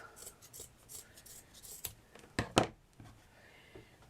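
Scissors snip through fabric for a leaf tutorial with a few soft cuts, then two louder crisp close snips near the end, quiet and without talk.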